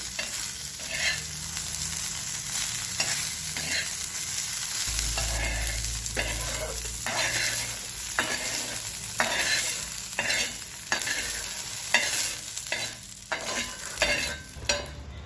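Okra sizzles in a pan of oil, a constant frying hiss punctuated by regular scraping stirs of a spatula, close and fairly loud with no talking.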